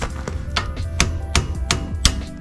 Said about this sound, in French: On va mettre un petit coup de marteau.